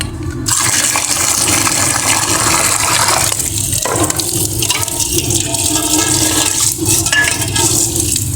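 Water runs and gushes steadily at close range while clothes and dishes are washed by hand, a continuous splashing wash with brief dips and surges throughout.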